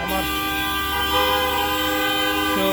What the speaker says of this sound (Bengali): এখন যিনি হর্নটা বাজালেন